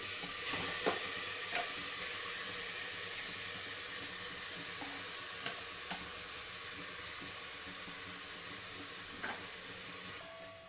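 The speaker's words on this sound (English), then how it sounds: "Once the cooker is hot, put the pork directly." Pork sizzles steadily in a hot cooker, a loud, continuous hiss of frying that holds throughout, with a few faint clicks and taps rising briefly above it.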